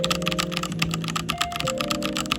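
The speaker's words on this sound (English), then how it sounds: "with this Gigabyte mechanical keyboard. So let's do a little sound test." Rapid typing on a Gigabyte mechanical keyboard without click springs, close up, with steady clattering keystrokes and no talking.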